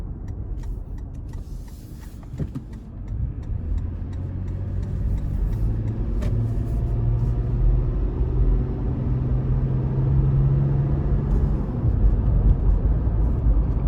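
A 2021 Toyota 4Runner SR5 with a 5-speed gearbox and bigger tires pulls out of a corner under throttle, its engine giving a steady low rumble that swells slightly as it accelerates over about fourteen seconds, with no talking.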